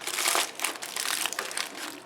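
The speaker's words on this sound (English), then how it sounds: "I'm just going to crumple up some tin foil" Tin foil being crumpled by hand in a kitchen, a continuous crisp crinkling and crunching for about two seconds, close and fairly loud with no talking.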